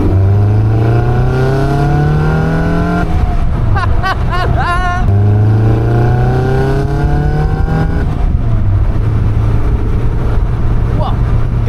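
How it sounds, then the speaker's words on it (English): A Caterham 340S with its doors removed accelerates hard in second gear, the engine note climbing loud and close through two long pulls with a brief shift between them, wind rushing past and a driver speaking over it. "Second gear, let's give it a pull."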